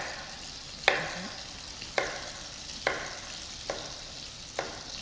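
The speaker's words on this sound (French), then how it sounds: "notre poisson frit légèrement, tranquillement" Fish fries gently in a pan with a faint, quiet sizzle, punctuated by sharp utensil taps about once a second, five in a row.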